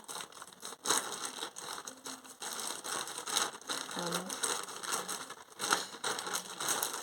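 A plastic parcel package from an online clothing order is ripped open by hand, giving crinkly tearing and rustling bursts with irregular crackles, close and moderately loud, with no talking.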